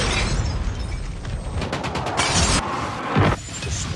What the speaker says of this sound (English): Napalm deployed.